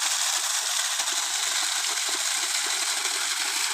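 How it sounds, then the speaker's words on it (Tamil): Water gushes steadily from the outlet of a solar-powered borewell pump, a bright, continuous hissing splash at moderate level with no break. "தண்ணி ஃபுல்லாக அடிக்குது பாருங்க"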